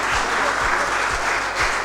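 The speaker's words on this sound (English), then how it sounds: "Students, please keep clapping." Students clapping at a skill-development training camp event, a steady round of applause with regular louder claps recurring under a faint background murmur.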